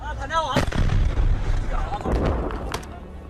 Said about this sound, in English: Then the sound of the explosion.